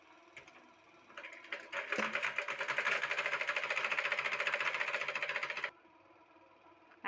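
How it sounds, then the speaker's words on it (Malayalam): An electric sewing machine stitches a trouser crotch seam in one steady, rapid mechanical run of several seconds, fast rhythmic needle clatter starting up, holding and stopping abruptly, close and alone with no talk. "ഇത് ഫുള്ളായിട്ട് സ്റ്റിച്ച് ചെയ്യാം."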